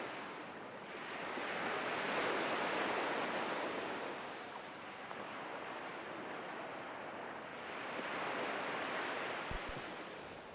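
Atlantic Ocean waves wash ashore at a secluded sandy beach on Brier Island, Nova Scotia, a steady roaring surf that swells in two louder surges, with no voices.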